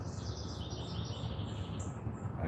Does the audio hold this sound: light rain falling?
no